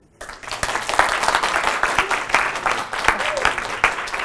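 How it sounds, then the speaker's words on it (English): Audience applause at a charity speaking event, a steady burst of clapping from a seated crowd lasting several seconds, fairly close and lively. "Give another round of applause, everybody."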